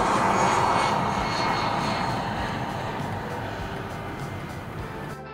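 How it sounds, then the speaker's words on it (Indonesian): Loud roar of a jet airplane taking off from the south runway at Cengkareng airport, a strong steady engine rush that slowly fades as it climbs away. "Tuh, ada pesawat take off."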